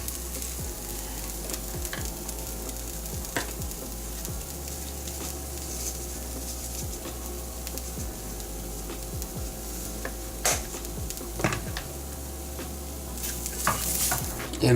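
Vegan mince sizzles steadily in a pan for a protein-rich breakfast, a constant close frying hiss broken by scattered scrapes and clinks of stirring, with no talking.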